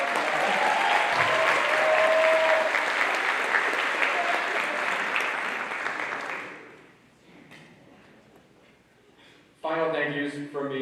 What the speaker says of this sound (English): Let's hear it for Daniel and Elijah.